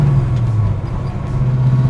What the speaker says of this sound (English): Oh man, I like this car. A lot of power.